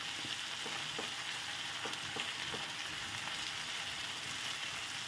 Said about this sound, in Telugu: ఫ్లేమ్ అయితే హైలోనే ఉంచాలండి. అప్పుడే ఈ టమాటాలు బాగా ఫ్రై అవుతాయి అన్నమాట